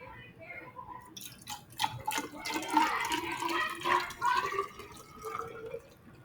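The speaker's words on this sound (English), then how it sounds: "So I'm going to carefully pour it in." Liquid pours carefully into a large graduated cylinder in a classroom measurement lab, giving a close, trickling, splashy flow that rises and falls over several seconds, with faint background noise.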